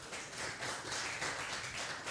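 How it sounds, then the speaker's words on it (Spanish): A live audience at a Spanish-language magic show applauds for Eddie, a volunteer called up on stage, with steady dense clapping that fills the room for a couple of seconds. "aplausos para Eddie"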